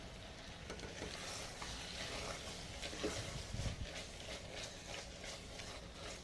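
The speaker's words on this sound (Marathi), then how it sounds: "अशी छान परतून घेऊया" Spiced bhogi vegetable curry sautéing in a pan with masala paste, giving a steady, close sizzle with a few scraping stirs partway through.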